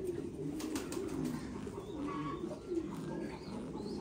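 Thai Titan pigeons, a parent pair raising chicks in a pigeon loft, give soft low repeated coos with faint chirps mixed in, steady and moderately close against a quiet background.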